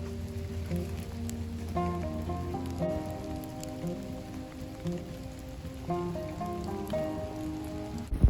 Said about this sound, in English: It's raining a lot, so we can't film much more.